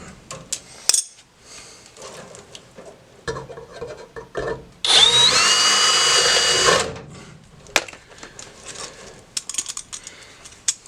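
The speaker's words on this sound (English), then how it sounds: "Go ahead and up drill this next one." A power drill up-drills a cleco hole during a Sonex aircraft build, one steady whirring burst of about two seconds that spins up to speed, set between quieter clicks and handling noises.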